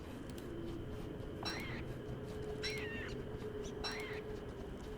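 Three short bird calls from a caged bird in Don't Starve rise and fall, spaced about a second apart over a faint steady hum and a soft game music tone.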